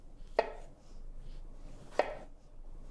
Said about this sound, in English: So I'm just going to trim off the ends.